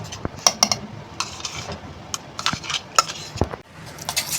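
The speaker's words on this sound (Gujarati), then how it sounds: "આપણા ખીરા સાથે આ બધું મિક્સ કરી દેવાનું છે." Ground sprouts and corn are stirred into uttapam batter in a bowl, giving a run of close, irregular scrapes and light utensil clinks against the container.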